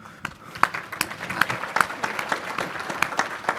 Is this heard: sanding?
no